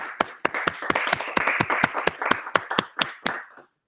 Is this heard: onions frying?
no